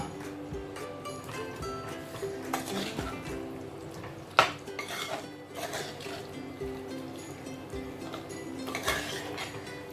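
Cooked beef goes into a pan of Kerala-style curry with softened tomatoes and is stirred, giving steady close clinks and scrapes of a utensil on metal with one sharper knock midway.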